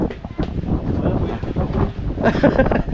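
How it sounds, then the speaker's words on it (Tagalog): Gusty wind buffets the microphone with low rumbling bursts, rising and falling, with some voices underneath. "Mahangin."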